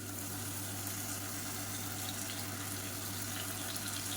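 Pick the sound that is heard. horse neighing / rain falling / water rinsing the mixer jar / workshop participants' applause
water rinsing the mixer jar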